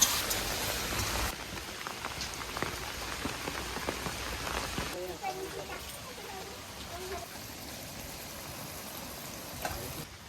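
Steady rain patters and hisses on a surface on a rainy day, its broad wash heavier at first and then easing slightly, with voices faintly present underneath.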